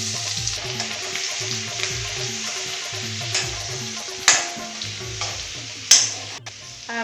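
Ginger and garlic sizzle and fry in a pan for rajma, a steady close crackle with occasional stirring scrapes and two sharper clinks near the end, no talking.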